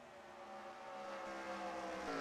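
A race car's engine strains with a high, buzzing whine in the Cup Series season finale at Homestead-Miami in a racing video game, rising steadily and growing louder, with no talk over it.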